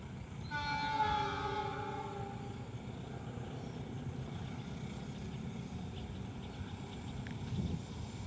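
The Argo Wilis passenger train passes at speed, sounding a long multi-tone horn blast at the start over a steady rolling rumble of wheels that carries on to the end.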